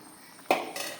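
Curry being poured into another serving dish, with a single sharp clatter of a pot or utensil against the vessel followed by a softer scraping clink, close and clear with no talk.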